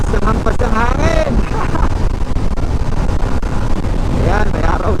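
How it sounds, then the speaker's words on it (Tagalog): Wind buffets the microphone with a steady low roar while a person talks intermittently over it in Vigan City, Ilocos Sur, the gusts loud and close throughout. "Malakas din yung hangin."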